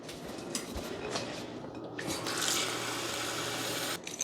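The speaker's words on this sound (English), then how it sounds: "I always just take water right from the sink." Water runs from a kitchen sink tap into a bowl for sourdough bread dough, a faint, steady close trickle and hiss lasting several seconds with slight shifts in pitch as it fills, no one speaking.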